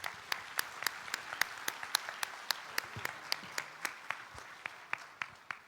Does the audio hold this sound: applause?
yes